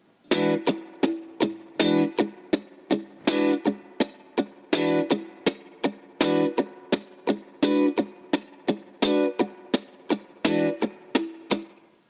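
Rhythmic funk guitar strumming with crisp, choppy strokes and short muted scratches in a steady repeating groove, played close and alone.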